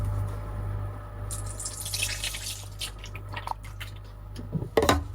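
Liquid pours steadily into a container for a couple of seconds, followed by scattered drips and a few clunks as the pour ends.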